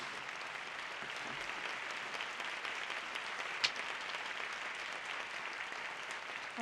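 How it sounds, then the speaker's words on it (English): Audience applause at a youth award ceremony for a peace forum, a steady dense wash of clapping that holds evenly throughout, moderately distant and with no speech over it. "Please give her a big round of applause"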